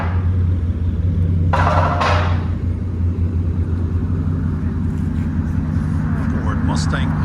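A Ford Mustang GT with an aftermarket exhaust rumbles loudly and continuously at close range, a deep steady drone with a brief brighter roar near the start, mixed with indistinct voices.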